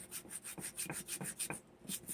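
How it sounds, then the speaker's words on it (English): Light hand sanding over a painted pour-painting surface with a metallic-flake coat, a steady back-and-forth rasping of short strokes, close and fairly quiet with no talking. "prior to putting that second coat on there to give it a light sanding"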